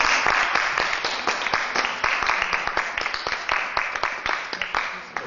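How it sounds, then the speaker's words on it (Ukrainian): Applause from the audience at a literary reading as a poetry guest is welcomed, with distinct sharp claps in a loose irregular rhythm from a small group, fairly close and gradually thinning out. "Оплески!"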